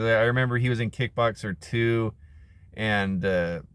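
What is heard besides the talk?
None of the usual background noises is heard.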